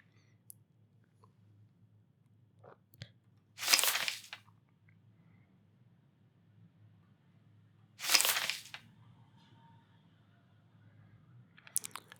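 Two loud bursts of rustling as a newspaper is folded, several seconds apart, with faint clicks and crinkles in between against a quiet background.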